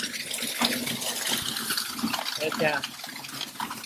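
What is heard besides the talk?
water flowing down in Vaduz city centre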